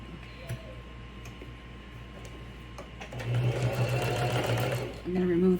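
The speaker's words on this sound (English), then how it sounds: "We're just gonna sew this section here." A sewing machine stitches a fabric toiletry pouch, a close rapid mechanical whir that starts after a quieter stretch with light ticking and runs for about two seconds before a brief pause and restart.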